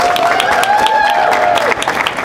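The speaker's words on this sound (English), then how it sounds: "Let's clap for Monaco." An audience at the COP18 climate conference applauds steadily, a continuous patter of clapping with a sustained high voice or whistle ringing over it before it fades.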